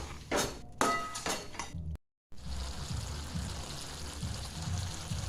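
A spoon stirs potato curry with coriander in a pan, giving a few close scraping clinks early on, then a brief silence and a soft frying hiss.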